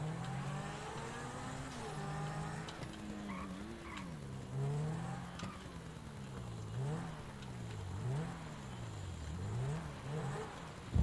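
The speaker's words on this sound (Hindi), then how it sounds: "ऐसे स्थान पर कार को चलाते हुए जहाँ पे मिट्टी के अलावा कुछ नहीं है" A car in a GTA video game drives over open dirt ground, its engine revving up and down in waves with repeated tire skids and squeals, close and steady throughout.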